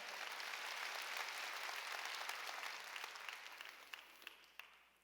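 A church congregation at Sunday worship claps together in a broad, sustained round of applause that gradually fades, with a few distinct sharp claps standing out near the end.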